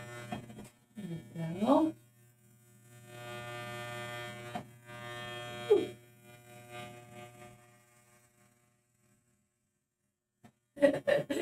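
An electric razor buzzes steadily while shaving a head, its motor hum sitting low and constant for most of the clip, with a few brief spoken words over it before the whirr cuts off near the end.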